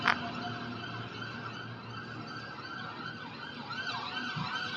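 An ambulance siren wails steadily, its rising and falling tone sustained throughout over a low rumble of traffic.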